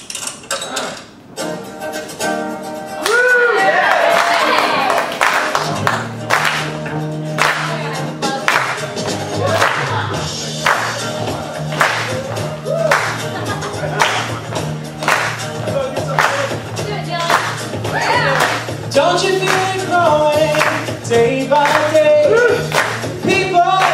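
Audience clapping along to live music at a nostalgic jukebox-style show, rhythmic claps repeating steadily under a full band with singing, the crowd blended into the mix rather than up front.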